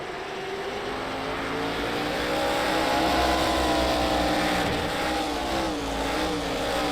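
Stock cars race at Thompson Speedway with a steady, loud roar of several engines at high revs, pitch rising and falling slightly as cars pass in a pack, with no gaps in the noise.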